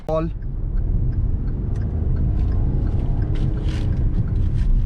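A 2021 Hyundai i20 pulls away and keeps driving, its engine and road noise forming a steady, close low rumble heard from inside the car, with faint muffled voices underneath.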